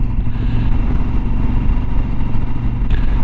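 A Yamaha 1200 Super Tenere motorcycle engine idles with a steady low thrum, loud and close, with no voices.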